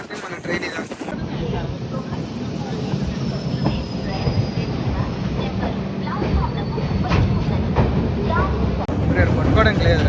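Train rolling along on a journey to Tirupati, a steady loud rumble of wheels and carriage noise with faint squeals, continuous throughout, with voices talking over it.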